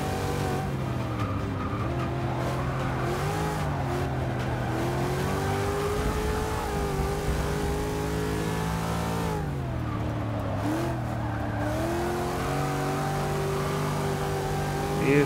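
Car engines revving in the Forza 6 racing game, a steady loud engine drone with rising and falling pitch and brief shifts, with no talking.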